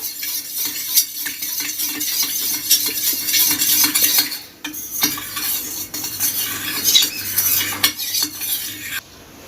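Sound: stirring chili and tomato sauce with water

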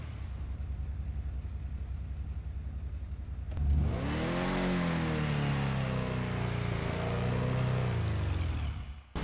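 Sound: car engine revving in GTA Online video game

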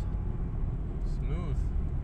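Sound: VW Golf/Jetta automatic transmission kickdown and upshift while driving

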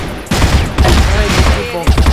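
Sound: gunfire in the video game CrossFire

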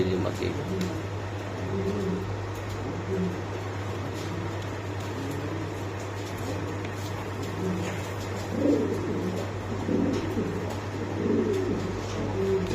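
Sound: pigeons cooing at pigeon market

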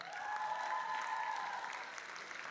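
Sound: audience applause welcoming a KVN team

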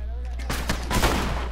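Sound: shotgun fire in The Last of Us video game

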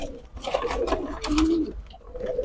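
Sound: pigeons cooing

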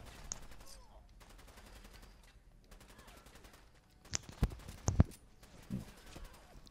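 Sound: gunfire in the video game Fallout 4

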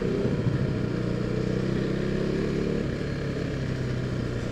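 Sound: KTM RC 390 motorcycle riding in city traffic

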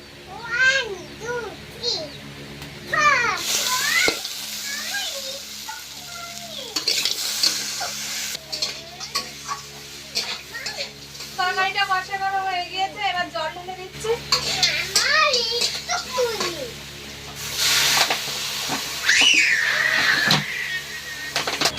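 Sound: stirring frying crab, Malabar spinach and potato curry

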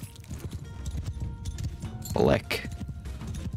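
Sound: cavalry horses galloping in the video game Mount & Blade II Bannerlord

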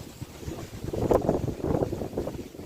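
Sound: wind blowing

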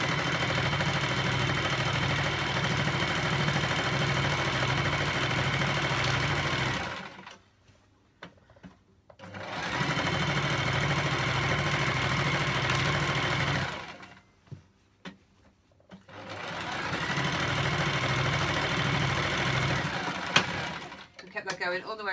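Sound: sewing machine stitching fabric in a circle

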